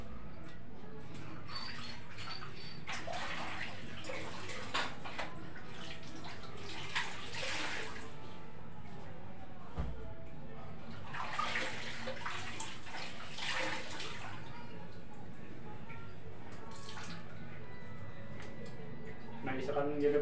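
Laundry being washed by hand in water, with steady sloshing, splashing and rubbing throughout, a voice talking over it, and some bird cooing in the background.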